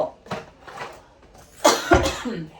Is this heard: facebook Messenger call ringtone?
no